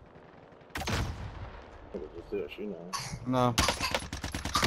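Gunfire in the shooter Warzone, with an OTS 9 SMG and C58 rifle in play, cracks out in bursts of rapid automatic shots, close and loud, mixed with a voice talking over the firing.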